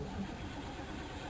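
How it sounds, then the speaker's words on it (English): Old Oldsmobile engine cold starting with a loud, leaking exhaust, a brief rough rumble that settles into running, close and fairly loud. "we're gonna go ahead and start this unit in real time here"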